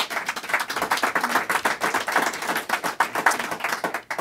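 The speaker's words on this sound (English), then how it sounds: "I think you all deserve a big round of applause." A hospital gathering in York Region breaks into applause. The claps come as crisp, closely packed individual hits that pulse unevenly, sounding like a modest crowd clapping nearby with no talk over it.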